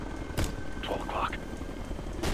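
A helicopter in the Ghost Recon Future Soldier video game makes a continuous low rotor drone, broken by a couple of brief, loud bursts of noise.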